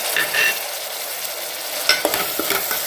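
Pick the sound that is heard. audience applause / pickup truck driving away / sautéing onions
sautéing onions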